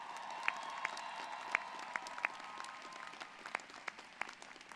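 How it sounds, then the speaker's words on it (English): At a university commencement ceremony, a crowd applauds graduates' families and friends, a faint, distant wash of clapping heard from afar, with scattered sharper claps and occasional cheers standing out. "let's also celebrate your families and friends with a very big round of applause"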